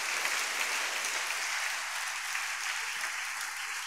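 A church congregation applauding for the Lord during a French-language sermon, a dense, steady wash of many hands clapping together that holds at an even level throughout.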